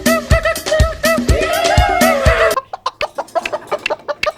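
A hen clucks loudly and close by in a rapid series of sharp, repeated clucks, some drawn out and rising, with no talk over them.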